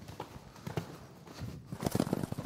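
A horse's hooves strike the ground in a rhythmic cantering beat, close and moderately loud, the footfalls growing stronger and quicker toward the end, with no voices over them.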